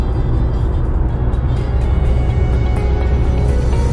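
A car on a road trip from Lviv toward Odesa makes a steady, loud interior rumble of engine and road noise, unbroken and close, with no speech.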